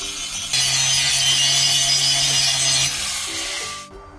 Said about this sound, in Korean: 목재판을 올려야 하기 때문에 그라인더로 용접 부위를 잘 연마해 줍니다.